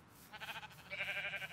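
Sheep bleats from the Minecraft video game, two short wavering calls in quick succession, fairly close and clear over a soft background.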